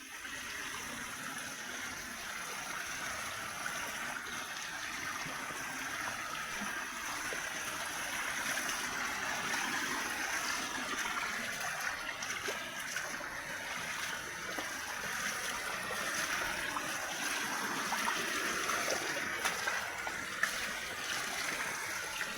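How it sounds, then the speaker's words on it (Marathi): A mountain spring stream flows steadily with a constant, soft gurgling rush heard close and alone over the whole stretch. "हा बघा, इथला हा झरा आहे।"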